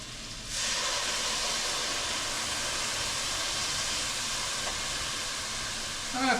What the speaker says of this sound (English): we're going to deglaze it a little bit